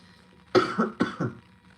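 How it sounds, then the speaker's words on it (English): A few sharp coughs from a person after smoking a morning vape, two close paired bursts about half a second apart, loud and near against a quiet background. "I was coughing for a second there"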